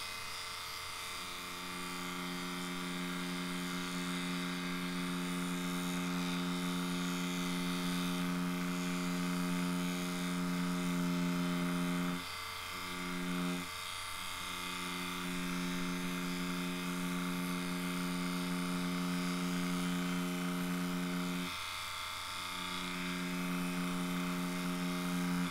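A Dragonhawk Extreme v2 direct drive tattoo machine with a 2.5 mm stroke runs at 6 volts on practice skin, a steady close buzzing hum with a couple of brief dips, no talking.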